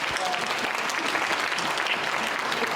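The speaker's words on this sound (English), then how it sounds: "The honorees, I want to give them another round of applause." Honorees receive another round of audience applause at a Sacramento community event, a full, steady burst of clapping from a large crowd in a venue, continuous and fairly loud throughout.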